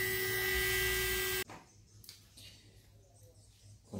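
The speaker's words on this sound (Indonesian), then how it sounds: "setelah memakai yang kasar, kita memakai gurinda yang halus ya." Fine grinding bit shaping a lower dental prosthesis with wire clasps at the molars, a loud steady high-pitched whine for about a second and a half that cuts off abruptly, leaving faint room noise.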